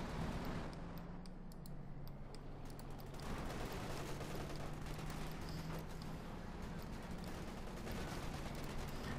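Light machine gun fire rattles in the real-time strategy game Company of Heroes 2 as a quiet battlefield din, with faint bursts of shots over a constant low rumble and no distinct voices.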